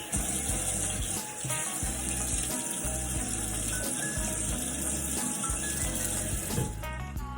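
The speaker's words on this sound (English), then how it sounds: "Gonna wash my face really quick." A bathroom tap running steadily while someone washes their face at a morning routine, a continuous close hiss of water with faint splashes and small clatters near the end.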